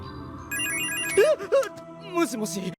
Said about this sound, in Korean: 기다리고 있던 주인공에게 전화가 오고